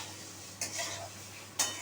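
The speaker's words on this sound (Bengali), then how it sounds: "আর পনিরগুলোকেও আমি একটু নুন দিয়ে ভেজে নিচ্ছি।" Paneer pieces with salt fry in a pan, a soft steady sizzle broken by two brief stirring scrapes, close and fairly quiet.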